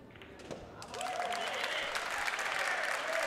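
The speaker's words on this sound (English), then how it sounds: "At least the crowd is loving it." A crowd at a pool match, a Spain vs Puerto Rico world teams championship, breaks into sustained applause. Clapping swells after a brief quieter start and holds steady and full to the end.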